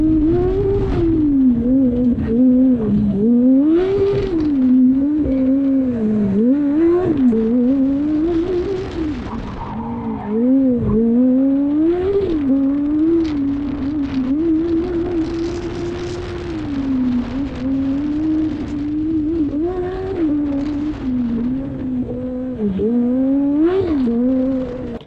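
A loud, high-revving Formula Student race car engine rising and falling in pitch as it accelerates and shifts, continuous and close throughout.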